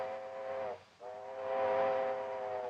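A steam train's whistle from a 1939 Western sounds as one sustained, harmonic blast, stops briefly, then blows again and swells louder with steam hiss behind it. No one speaks.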